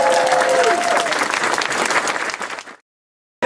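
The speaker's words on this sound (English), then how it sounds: "give a round of applause to my store team" Audience applause for a store team at a Wawa grand opening in Upper Darby: a burst of steady, moderately loud clapping from a crowd that fades out and stops abruptly before the end.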